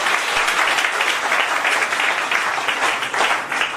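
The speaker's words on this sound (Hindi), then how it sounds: "तो वो ईश्वर के लिए एक बार जोरदार ताली हो जाए, भगवान के लिए।" A seminar crowd in Jhansi, Uttar Pradesh, claps loudly and steadily throughout, a dense wash of many hands with slight swells.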